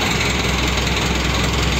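A Blue Horse 855 tractor engine runs loud and close with a steady, rough idle and no pauses for the whole stretch.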